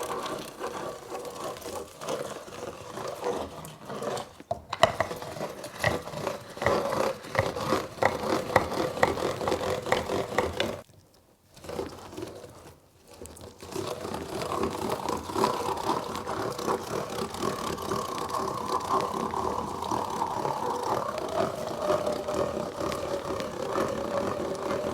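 A clear manual meat grinder is cranked by hand to grind meat. It gives a continuous scraping, rattling churn with a brief pause partway through, then keeps up a steady grinding whir.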